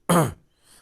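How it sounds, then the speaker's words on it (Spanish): A single sharp cough close to the microphone, followed by quiet with a faint trailing breath. "acá le pausé porque me llegó una tos"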